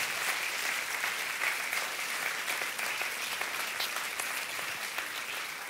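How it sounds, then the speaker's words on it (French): A church congregation claps steadily throughout, a continuous even wash of applause at moderate distance with no pauses. "On peut les applaudir plus fort que ça."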